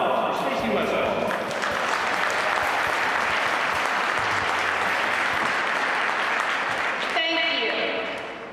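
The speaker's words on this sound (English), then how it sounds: "a warm round of applause for Stacy Westfall." Warm applause from an audience at a horse training demonstration, sustained and full for several seconds before fading, with some voices and background sounds mixed in.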